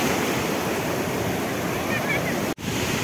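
Ocean waves on a beach in Goa roar in a loud, continuous wash of surf with wind buffeting the microphone, briefly cut out for a moment near the end.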